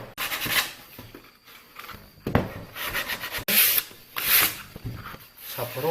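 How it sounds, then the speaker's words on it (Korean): Rough scraping strokes of sandpaper smoothing the sharp edges of an assembled wooden toolbox, irregular and close, with brief pauses between passes. "날카로운 모서리 부분들은 사포질을 해서 부드럽게 만들어 주시면 됩니다"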